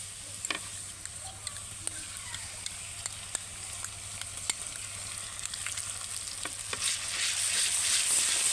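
A yogurt and spice mixture frying in a pan with deep-browned onions for a chicken roast, a soft continuous sizzle dotted with sharp stirring ticks that swells louder near the end.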